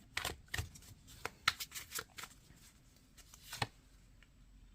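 Tarot cards are shuffled and drawn by hand, with quick crisp riffling bursts and soft card flicks at close range, fairly quiet, in irregular clusters separated by brief pauses.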